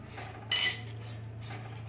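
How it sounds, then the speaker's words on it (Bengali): Broken wheat and semolina dry-roast in a pan, with a spoon scraping and clinking against the metal in a short stir, faint and close over a low steady hum. "একটু ভালো করে ড্রাই রোস্ট করে নিয়ে তার সাথে সুজিটাও দিয়ে দিলাম"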